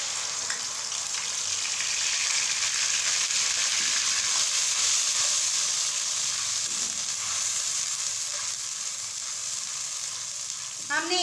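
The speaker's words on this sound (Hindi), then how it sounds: "ऑयल अच्छी तरह से गर्म हो चुका है। अब हम इसमें डालेंगे प्याज।" Onion paste hitting hot oil in a pan while cooking aloo chicken, a loud, steady, hissing sizzle that holds for several seconds, with a faint scrape of stirring near the end and no talking.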